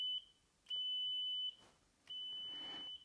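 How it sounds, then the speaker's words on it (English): Small electronic buzzer powered by a potato battery sounds three steady beeps, short then long then long, like Morse code, clear and close with quiet pauses between. "If we wire up the buzzer, you can hear now that we've got enough current to get the buzzer to work."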